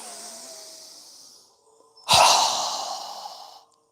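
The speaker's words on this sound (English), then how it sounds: "So go ahead and inhale. Strong exhale. Again." Forceful breaths in a yoga breathing exercise: a long softer exhale fades out, then after a short pause a sharp, loud exhale bursts in and trails off over about a second and a half, close and with no talking.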